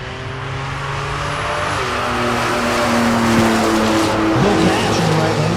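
A Buick Turbo Regal and a black Mustang launch side by side at a drag strip, engines rising loudly with tire squeal and droning revs up close, while an announcer talks over the roar.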